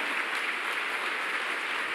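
Steady applause fills a church congregation's service, a dense even wash of clapping holding at moderate loudness throughout with no voices on top.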